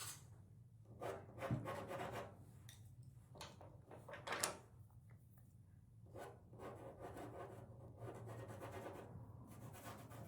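Pastel being rubbed across a sandpaper drawing surface, a soft, intermittent scratchy rasping in short strokes, quiet and close with a low background hum.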